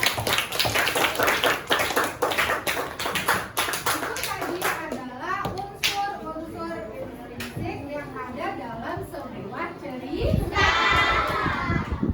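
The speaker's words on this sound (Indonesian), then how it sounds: "Tepuk tangan untuk kalian." Applause from children in a classroom, a burst of many small hands clapping near the start, fading under a teacher's voice and children's chatter, with more clapping returning toward the end.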